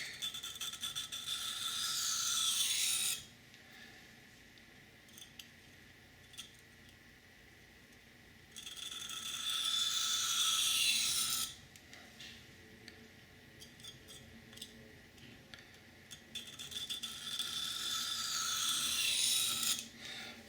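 Three rasping high-angle deburring passes of a blade edge on a sharpening stone. Each is a loud scraping stroke of about three seconds, with quieter pauses between them and no talking.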